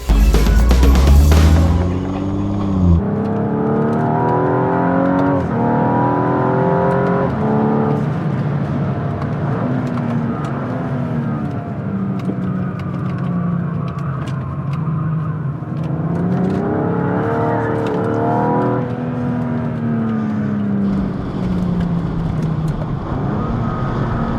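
A Blu Steven 905 racing car driven on a track, its engine droning and rising through gears in long sustained revving sweeps, loud and close from inside the cockpit with wind noise, no talking.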